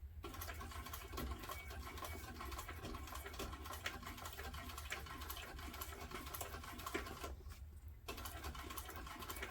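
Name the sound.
sewing machine sewing a fleece tote seam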